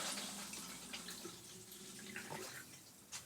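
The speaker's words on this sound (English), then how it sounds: "So this is the hypo clear, or wetting agent. Pour that in." Hypo clear wetting agent is poured into a film developing tank during black-and-white film processing, giving a steady soft splashing trickle of liquid that runs continuously and alone for a few seconds.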